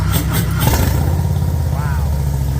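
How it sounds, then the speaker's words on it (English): A Harley motorcycle engine cranks and catches, then settles into a loud, close, lumpy idle rumble. "Danger now is starting up these bikes."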